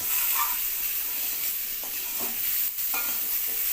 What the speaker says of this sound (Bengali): মশলাগুলোকে একসাথে সবজির সঙ্গে ভালো করে কষিয়ে নিলেন